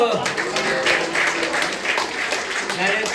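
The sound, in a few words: audience applause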